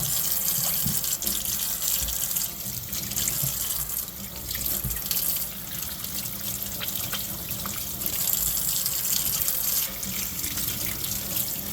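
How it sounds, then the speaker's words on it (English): A tap runs steadily into a sink, rinsing out dirty cleaning water used for 925 silver and stainless steel jewelry, a continuous close rush of flowing water with no pauses. "We're gonna rinse this water out."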